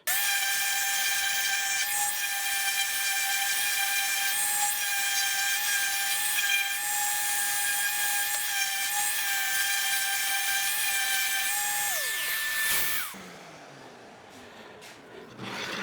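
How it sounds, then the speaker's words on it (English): A power sander running on rough barn wood gives a steady, loud high-pitched motor whine for about thirteen seconds, then shuts off, leaving a faint rustle. "when you hit this barnwood with the sander, it catches the top part, smooths them out"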